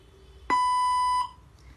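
A translator robot sounds one steady electronic beep lasting under a second, loud and close in an otherwise quiet room, and nobody speaks.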